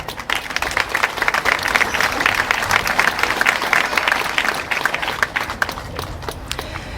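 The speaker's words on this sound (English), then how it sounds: "I think that everyone should give them a round of applause." An audience at the opening ceremony of the St James's commemoration garden applauds the garden builders, with steady, close clapping throughout that eases slightly toward the end.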